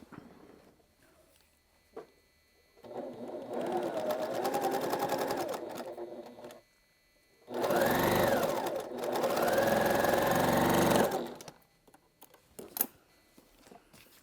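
A sewing machine stitches quilt pieces at a quarter-inch seam in two close, steady bursts of rapid whirring, separated by brief pauses and small handling clicks.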